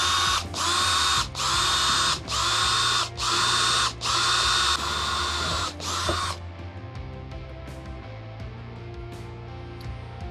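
A power drill bores a pilot hole in stainless steel, running in six loud, steady bursts separated by brief pauses, then stopping, with a lower mechanical hum and faint clicks continuing afterward.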